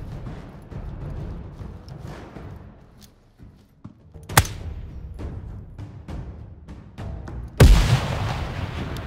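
Grenade explosion in a tactical shooter game, a sharp blast followed later by a louder, heavier boom amid scattered shots and thuds, fairly close.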